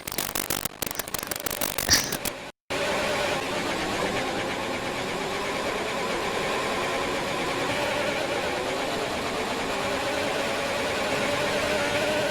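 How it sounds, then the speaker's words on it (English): Ferrari race car engine in a league racing game set in Azerbaijan, first a burst of rapid stuttering pulses as it bounces off the rev limiter, then a brief cut and a loud sustained high-revving drone. "Bouncing off the rev limiter there by the sounds."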